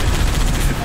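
Dense, continuous turret gunfire in Halo ODST, a loud sustained burst of rapid shots with a faint voice underneath.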